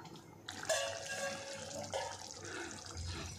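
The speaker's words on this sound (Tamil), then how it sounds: "மிக்சியை கழுவி ஒரு 1/2 கப் அளவு தண்ணி இதை மட்டும் நல்லா சேர்த்துக்கலாம்" Water is poured into a mixer jar while cooking hariyali chicken, a splashing, gurgling pour that starts sharply and runs steadily for a few seconds, close by.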